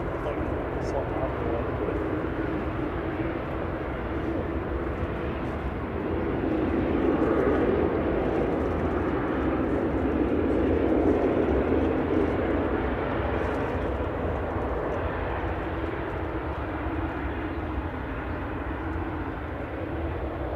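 A TUI airliner arriving at Manchester Airport gives a steady, moderate engine rumble that swells in the middle and then eases, with speech over it.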